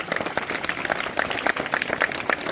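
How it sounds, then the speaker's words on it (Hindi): A group of schoolchildren at a wildlife conservation talk claps loudly for themselves, with brisk overlapping hand claps in a short, energetic burst nearby. "एक बार अपने लिए जोरदार तालियां बजाइए बच्चों सभी।"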